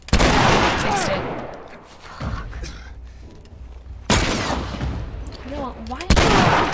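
Gunfire in The Last of Us video game, several loud sharp bursts of shots spaced a couple of seconds apart, each followed by a decaying echo, with a voice talking in between.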